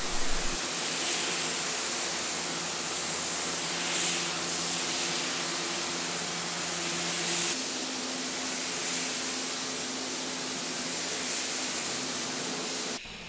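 A spray gun lays base coat paint onto a car hood during an auto body repaint, a continuous close hiss that holds steady throughout, its tone shifting slightly about midway, with no voices.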